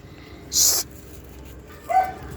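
A territorial dog gives one sharp, loud bark, then after a pause lets out a short, high whimper, close by in a quiet setting.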